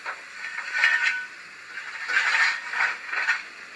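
Firebox effect from a Youchoos sound decoder in a model Southern 0-4-4 tank steam locomotive (Class M7 or H Wainwright): a soft, crackling roar of fire that swells and fades in several uneven waves, alone and fairly quiet.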